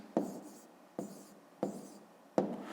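Pen strokes from writing numbers by hand on paper come as four short scratchy bursts, close and quiet, spaced roughly evenly with soft pauses between them.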